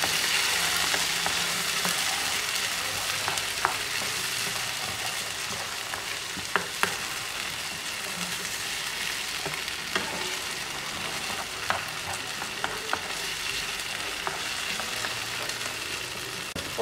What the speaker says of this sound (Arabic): الفلفله والبصله ملي دبلوا بحال هكا غادي نزيد عليهم لاصوص ديال المطيشه